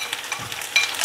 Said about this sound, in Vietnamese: Mình cho thêm củ hành vô cho nó thơm.